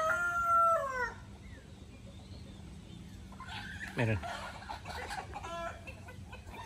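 Silkie hens and a rooster call among chicks, a crow early on and soft clucks later, fairly faint outdoors with a person speaking briefly.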